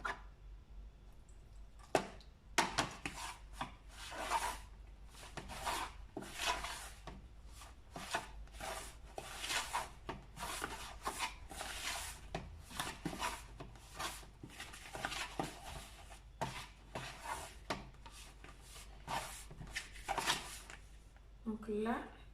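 Pizza dough being mixed and kneaded by hand in a bowl, a busy run of soft slaps, squelches and rubbing thuds, close and fairly faint.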